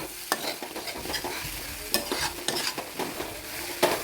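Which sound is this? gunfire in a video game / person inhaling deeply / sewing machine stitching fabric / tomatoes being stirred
tomatoes being stirred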